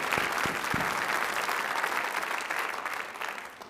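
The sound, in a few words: audience applause for dancers at a Burns Night event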